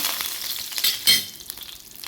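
Rice grains pop and sizzle in hot oil while tempering for a long bean leaf (payar ila) thoran; a steady frying crackle with a few sharper pops, moderately close, and no talking.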